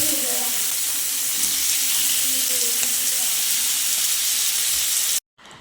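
Fish fillets laid into hot oil with curry leaves in a pan, Kerala style, give a steady, fairly loud broadband sizzle that runs unbroken, then cuts off abruptly near the end.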